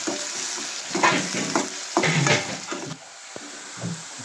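Chopped onion sautés in a hot pan, a steady close sizzle and crackle broken by scraping stirs of a spoon against the pan, with no voices.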